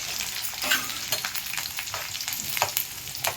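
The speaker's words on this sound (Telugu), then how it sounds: "ఎల్లుల్లిపాయలు ఫ్రై అయిపోయినాయండి" Onions and garlic fry in a pan, a dense close sizzle with crackling pops and occasional stirring scrapes, steady and unbroken.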